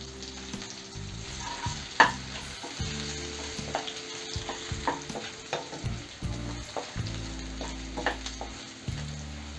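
Chili powder frying in oil in a pan over a low flame for a dry fish curry, a steady soft sizzle with occasional stirring scrapes and clinks, close and moderately quiet, with no talking.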